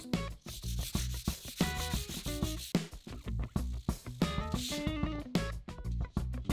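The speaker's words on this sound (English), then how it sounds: "Now I'm using this sanding sponge," A fine sanding sponge rubbed back and forth along guitar frets, giving quick rhythmic scrubbing strokes, close and fairly loud, with faint ringing string tones sounding between passes.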